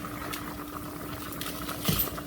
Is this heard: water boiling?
yes